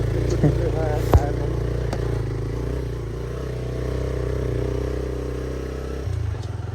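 A motorcycle engine runs steadily while riding a slippery, rain-soaked off-road track, with a brief sharp clatter early on. People talk over the constant engine drone.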